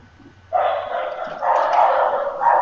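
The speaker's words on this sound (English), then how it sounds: "And there's the dog." A dog barks in a quick burst of rough, noisy barks that begin half a second in and run to the end, fairly loud and close, with no voices.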